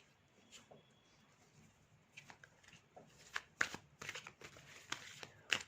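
Tarot cards are shuffled and drawn close by, starting with soft rustling that builds into sharper slaps and flicks of the cards toward the end.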